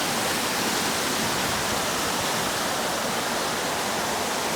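Rushing water pours and splashes steadily at a canal lock, a continuous broadband roar that stays loud and even throughout with no voices.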